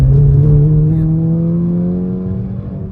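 Stock car engine revving hard toward turbo boost, a loud close drone whose pitch climbs steadily and then eases off slightly.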